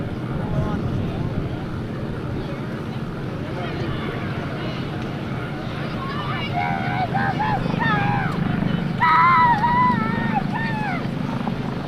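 A Coast Guard HH-65 Dauphin helicopter at the 2003 Wings and Wheels airshow near Atlantic City gives a steady, broad turbine-and-rotor drone at some distance, with an announcer's voice over a public address system on top.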